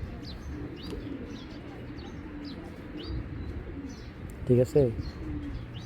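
Giribaz pigeons coo softly in a loft, a short pair of low throaty coos near the end over faint chirps and background noise, with someone speaking briefly.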